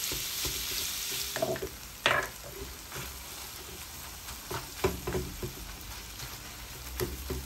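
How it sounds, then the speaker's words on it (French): Tomato meat sauce in a pan for homemade lasagne sizzles and simmers while a utensil stirs it, bringing soft scrapes and clinks over a steady low bubbling hiss, with no speech. "je viens tout mélanger et je vais laisser mijoter environ 25 minutes"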